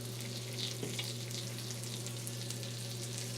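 Mushrooms dipped in tamari soy sauce and flour sizzle in a butter mixture, a steady close crackle and hiss of frying with a faint stir midway, no talking.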